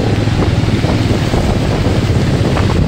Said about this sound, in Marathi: हे बघा काय पाऊस आहे.